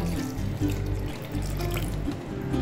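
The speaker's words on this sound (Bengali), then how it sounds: "দিয়ে দিচ্ছি একটু জল।" Water poured into a cucumber sherbet mix, a steady close splashing pour that runs without a break and has no talk over it.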